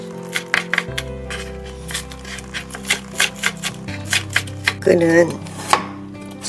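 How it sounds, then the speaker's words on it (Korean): A knife chopping green onions and carrot on a cutting board in quick, close, crisp taps, some fast runs and a brief rustle, with a short spoken word once. "채를 곱게 썰어서 썰어주시면 돼요"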